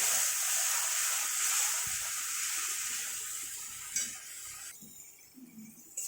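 Spices with salt and turmeric sautéing in a pan for a banana-flower dish, heard as a soft, steady hiss of frying that fades, followed by a few faint scrapes and clatters of a spoon, close by without any talking.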